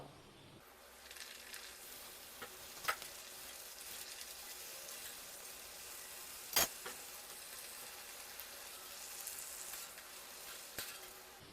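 Rava (semolina) chips frying in hot oil for an evening snack, a steady soft sizzle and hiss throughout with a few sharp pops and crackles, close by and alone without talk.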